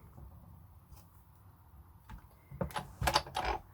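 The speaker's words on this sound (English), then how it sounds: "So I'm just going to bring in my big shot. I'll just run it through quickly." A Big Shot die-cutting machine crunches through 300 GSM card, with a burst of close, clattering mechanical rattles at the end after near silence.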